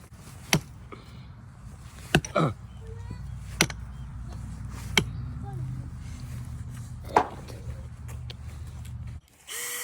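Sharp metallic strikes ring out at irregular intervals, several hammer blows driving rebar into the ground while building an H-brace fence outdoors, with a low engine-like rumble and faint voices underneath.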